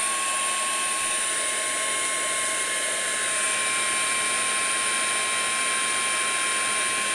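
Heat gun blowing on embossing powder over a card, a loud, continuous whirring rush with a steady whine, close and unbroken for the whole stretch.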